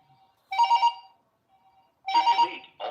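A home telephone rings in two bursts of electronic trilling, separated by a quiet gap, with a third ring beginning at the end, close and clear with no talking.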